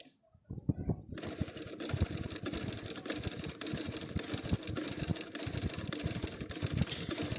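A sewing machine with a bottom-stitching fault runs a seam, a fast steady mechanical rattle starting after a brief quiet moment and continuing close and even to the end.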